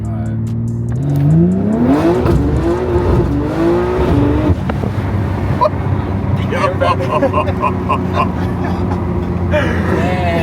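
A tuned rear-wheel-drive BMW G80 M3 Competition engine revs hard and climbs in pitch through first, second and third gears, loud and close, with voices talking over it.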